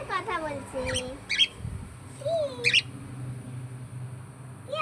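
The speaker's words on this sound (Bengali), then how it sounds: "কাকাতুয়া" A cockatoo gives a few short, harsh squawks and warbling calls between quiet gaps, fairly near, with people's voices nearby.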